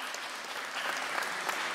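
An audience applauds members of a police emergency and rescue association at a ceremony, a steady dense patter of clapping from many hands that swells slightly, with no voices above it.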